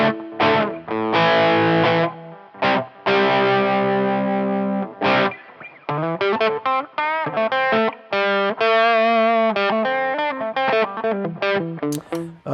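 Heavily distorted electric guitar with humbucker pickups, a Pearson Hyper B Gen 5, playing a series of chords and riffs, thick and saturated, with bursts of sustained notes and short choppy strums, no voices.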